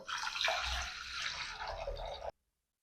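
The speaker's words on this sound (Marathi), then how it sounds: "आता डाळीच्या पट यामध्ये पाणी घालू" Water is poured into a pot of washed lentils for a Karnataka-style bonda soup, a close, burbling, gurgling pour with some dripping that runs steadily, then stops abruptly into silence.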